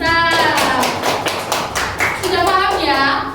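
Students in a classroom clap for a classmate, a short burst of hand claps mixed with children's voices and a teacher speaking over the noise.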